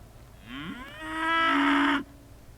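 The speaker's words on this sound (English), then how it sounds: "I'm glad that's a cow and not a human." A cow lets out a single loud, close moo that rises and holds for about a second and a half, then cuts off, heard alone in a quiet rural setting near a parked car.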